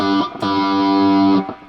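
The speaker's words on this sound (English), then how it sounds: "He's running an overdrive pedal in front of a tube amp." A distorted electric guitar, an overdrive pedal into a tube amp with a wah pedal, sustains a thick, nasal chord with a filtered wah tone, starting with a couple of quick picked attacks before ringing out.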